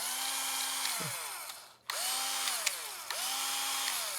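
An old two-speed power drill whines on its fast setting, spinning up and winding down three times with brief pauses, close and loud.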